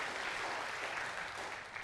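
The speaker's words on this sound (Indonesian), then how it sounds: "Tepuk tangan yang paling meriah buat Tuhan kita yang hebat aja." Worshippers at a church service clap in a steady, distant-sounding wash of applause that stays fairly faint and even throughout.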